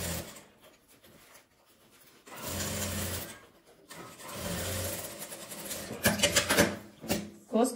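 A sewing machine fitted with a teflon presser foot stitches fabric in short, uneven bursts separated by quiet pauses, with a soft mechanical hum close by.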